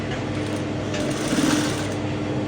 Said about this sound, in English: So I'm just sewing the head shape now,